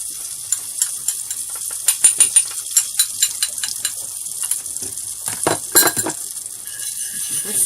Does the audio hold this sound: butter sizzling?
yes